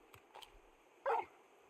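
A dog-like companion in the Final Fantasy XVI video game gives two short faint yips followed by one louder, fuller bark, with no talk over it.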